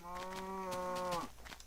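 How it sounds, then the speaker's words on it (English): A cow in the video game Minecraft Alpha lets out a single low, steady moo with a tonal, droning quality that lasts over a second and then cuts off abruptly. Some faint background sound follows. "Kill this cow."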